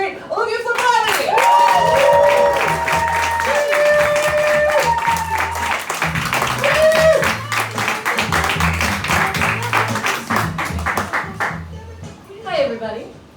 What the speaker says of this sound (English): So make tons of noise and clapping sounds